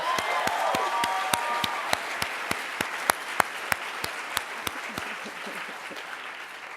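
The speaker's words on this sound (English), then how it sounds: "Can we give them a round of applause?" Audience applause for a married couple at a leadership talk, a steady wash of many hands with a few sharp, loud individual claps beating out a regular rhythm throughout.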